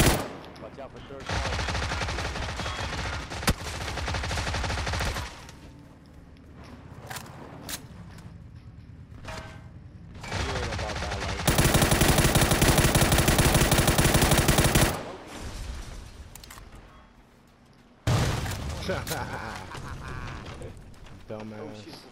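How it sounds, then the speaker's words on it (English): Sniper fire in the PUBG battle game comes as repeated loud, sharp gunshot blasts with bursts of rapid shots and mechanical clicks, heard over players talking. "Oh shit, someone's sniping."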